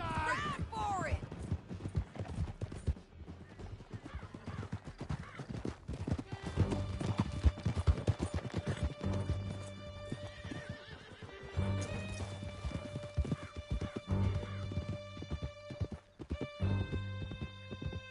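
Horses gallop in a video game, a rapid clatter of many hooves with whinnies and neighs, gunfire bursts and shouting voices over a long, busy chase.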